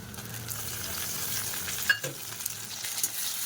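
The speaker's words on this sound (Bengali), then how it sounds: "পেঁয়াজটা লাল লাল করে ভেজে নেব" Onions frying in a pan for a Bengali rohu fish curry with potato and pointed gourd, a steady soft sizzle with a few stirring clicks and scrapes partway through, close and alone without talk.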